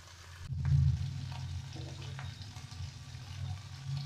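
Prawns fry in hot oil in a pan, a steady close sizzle that swells briefly near the start and then holds at an even level, with no voices.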